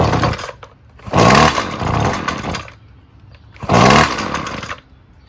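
A Wild Badger 26cc weed trimmer engine runs on choke, revving loud in two long bursts with a rough, buzzing idle between them, close up and without voices.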